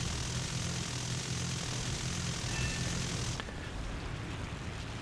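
A low-tier reserve propeller aircraft in War Thunder drones steadily and loudly in flight, and its engine tone shifts abruptly about two-thirds of the way through.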